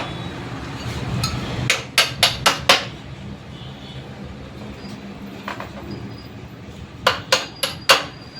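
Sharp metallic hammer blows drive a motorcycle axle through a wheel hub while refitting bearings, striking in two quick bursts of about four ringing hits each, close and loud over a low background hum.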